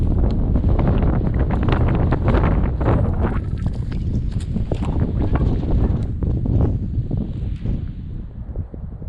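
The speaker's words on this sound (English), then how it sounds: "Desert wind ain't nothing to fuck with." Strong desert wind buffets the microphone on a hiking trail between Pine and Payson, Arizona, a loud, continuous roar with gusty rumbling that eases slightly near the end.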